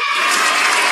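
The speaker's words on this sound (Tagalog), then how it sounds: "Palakpak naman kayo." Dense, loud applause from a studio audience at a Voice Philippines blind audition, steady broadband clapping filling the short moment without a break.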